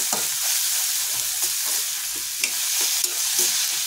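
Tomato fries with onion in a pan for egg bhurji, giving a steady broadband sizzle with faint scattered stirring taps throughout, close and without talk.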